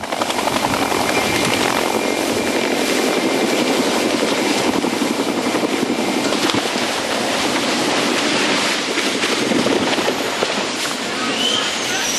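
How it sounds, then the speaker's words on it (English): A helicopter lifts off with a fuel line problem, its loud, dense rotor and engine roar filling the whole stretch without a break, with a voice faintly underneath. "helicopter lifted off smoothly"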